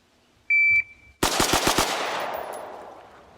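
A rifle fires five rapid shots in a shooting drill at five yards, sharp loud cracks in quick succession with echo trailing off, preceded by a shot timer's electronic beep.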